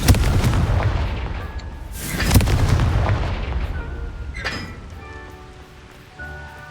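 A Confringo blasting spell goes off in Hogwarts Legacy, bursting with a heavy boom around two seconds in. A second crackling burst follows later over low rumbling ambience, with no talk.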